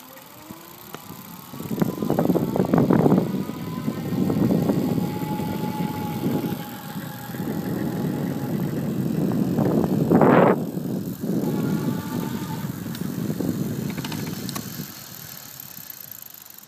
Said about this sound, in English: I'm going to go ahead and just hop on and give you a quick demo of what it's like to accelerate this bike